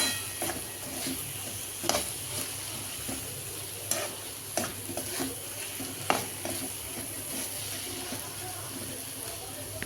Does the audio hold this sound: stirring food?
yes